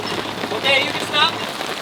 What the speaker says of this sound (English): the rain started.